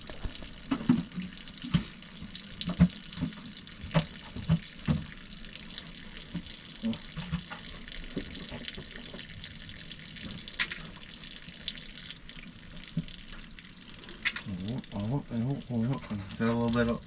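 Fluid, antifreeze mixed with oil, drains and trickles out of an old 1978 Hein Werner 25-ton excavator engine in a steady splashing stream, with people talking intermittently over it.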